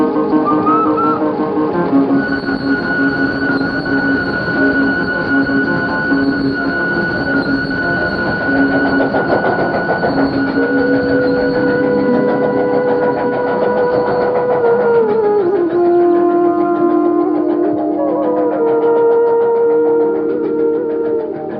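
A passenger train pulls out of a station with steady rumbling and rolling wheels, metallic squeals and tonal whines that shift in pitch as it moves off, loud and continuous throughout.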